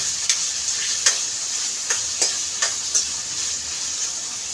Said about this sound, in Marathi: त्याला मस्त मिक्स करून घेऊया.